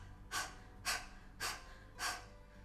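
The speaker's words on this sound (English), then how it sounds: "5 breaths in the dog panting style just to see what that's like" Four forceful nasal exhales in dog-panting style for Kapalabhati breathing, evenly spaced about half a second apart, each a short breathy puff close to the microphone, with quiet passive inhales between them.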